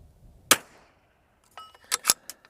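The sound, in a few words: Vudoo .22LR rifle shot, MDT ACC Elite chassis, offhand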